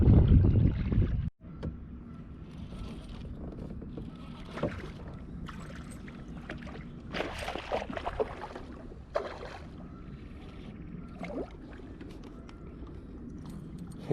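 A kayak glides on the water during early spring bass fishing, with soft intermittent paddle splashes and dripping strokes against light wind noise; a hard thump opens it before things settle into quieter, sparse paddling.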